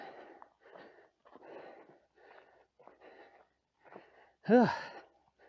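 Heavy, labored breathing from a hiker on a backcountry trail near the Bechler area of Yellowstone, a run of close rough breaths in uneven bursts followed by one louder wheezing gasp.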